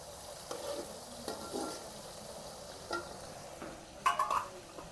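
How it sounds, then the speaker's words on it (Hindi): Onions frying in oil, a quiet continuous sizzle with occasional stirring scrapes and a cluster of metallic utensil clinks near the end, without talk. "आज बस प्याज अभी फ्राई होते हैं ना"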